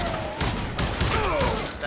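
Pistol shots in the Western shooter Call of Juarez Gunslinger: a few sharp, loud cracks at uneven intervals across two seconds, with someone talking over the gunfire.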